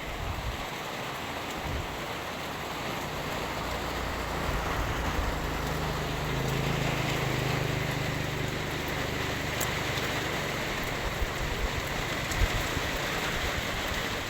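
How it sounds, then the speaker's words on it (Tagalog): Steady rain pours down in a dense, even hiss, continuous and fairly loud throughout with no voices. "Magdamag ning ulan mga palangga, magdamag jud ni siya."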